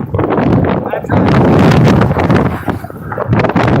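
Strong wind gusts roar and buffet the microphone in a loud continuous rush, surging and easing across the span while a voice speaks beneath it.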